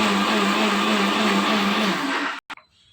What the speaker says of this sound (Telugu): మరలా బెల్లాన్ని యాడ్ చేసిన తర్వాత మరొకసారి మిక్సీ తిప్పాలి